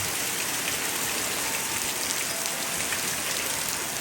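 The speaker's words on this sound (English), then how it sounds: "the wind is kind of blowing the rain" Wind-driven rain from a strong squall line in southern Ohio pours down steadily, a dense, loud hiss of drops pattering on surfaces throughout, with no talking.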